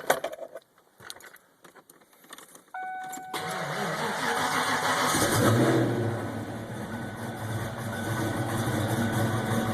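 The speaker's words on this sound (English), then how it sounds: "I'll go ahead and start the car and show you what this shift light looks like" A 1979–93 Ford Mustang starts up: keys jangle and rattle, the starter cranks briefly, then the engine catches with a loud burst and settles into a steady, rumbling idle close by.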